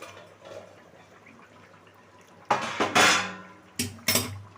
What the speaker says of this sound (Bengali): আমি এবার একটু ঢাকাটা খুলছি